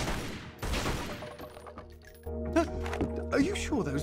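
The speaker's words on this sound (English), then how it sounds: "shoot this open." Gunfire in Tomb Raider: Legend as a firearm shoots something open, a burst of loud blasts and crashes followed by scattered impacts over game ambience, with a voice speaking partway through.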